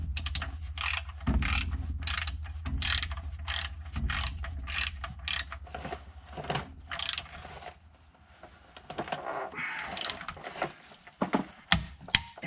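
Rapid ratchet clicks come in repeated strokes, close and loud, as a torque wrench snugs the small 12mm differential brace bolts on a Dodge SRT Hellcat, with a steady low hum underneath and a few sharper clacks near the end.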